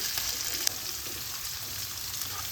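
Garlic frying in oil in a pan for bottle gourd greens, a steady close sizzle with a brief stirring clink early on.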